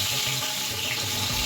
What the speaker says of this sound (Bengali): এবার দিয়ে দেবো হচ্ছে মাছগুলো।